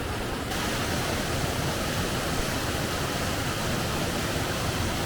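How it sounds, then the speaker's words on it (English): Steady roar of a mountain waterfall cascade in the Pyrenees, broad and continuous rushing water heard close and loud throughout with no voices. "I've got this cascade here in the foreground"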